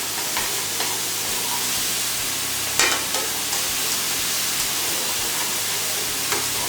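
Garlic sizzles steadily in a hot pan with a constant frying hiss, broken by a few soft scrapes and clicks of stirring.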